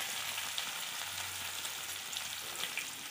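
Garlic and chilli frying in a pan as the first step of a red ant curry, giving a steady, close, bright sizzle that holds evenly throughout with no voices.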